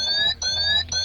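A Citroen C4 Grand Picasso 1.6 HDi dashboard gives a warning chime after the ignition is switched on: three clear, evenly spaced electronic tones repeating at a steady rhythm, close and alone.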